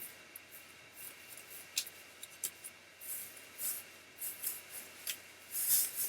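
A deck of mitzvah cards being shuffled, a series of soft papery riffles and rubs in irregular bursts, close and quiet with no voices.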